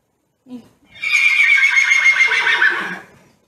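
A horse whinnies loudly from its stall in the back, a long shrill neigh lasting about two seconds that trails off, preceded by a brief low snort.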